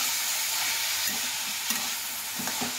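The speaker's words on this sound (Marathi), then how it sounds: "तुम्ही बघत राहायचं, खाली जास्त करपू द्यायचं नाही, व्यवस्थित फिरवत राहायचं" Cluster beans fry in a pan with a steady hiss and sizzle while a spatula stirs them, giving occasional soft scraping knocks through the continuous frying noise.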